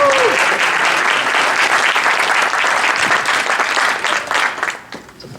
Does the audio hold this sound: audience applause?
yes